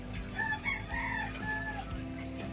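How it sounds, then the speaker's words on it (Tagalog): Chickens cluck and a rooster crows faintly over a steady low background hum, the calls coming from some distance. "mga manok na naman nag-aaraligid"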